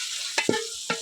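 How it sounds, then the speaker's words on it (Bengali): Chicken frying with onions in oil as it is stirred, producing short bursts of scraping and sizzle with a gentle hiss behind them and no talking. "ভালো করে নেড়ে চেড়ে মাংসটাকে ভেজে নেবে পেঁয়াজ আর তেলের উপরে।"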